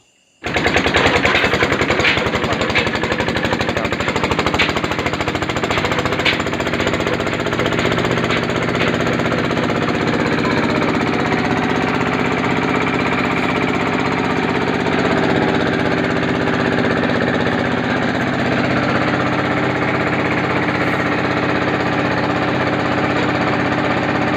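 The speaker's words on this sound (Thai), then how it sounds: "ฟังเสียงเครื่องนะครับ การทำงานของเครื่องครับผม" A loud, steady mechanical roar with rapid rattling and knocking from a used three-stone rice mill, running continuously and close by with no voices.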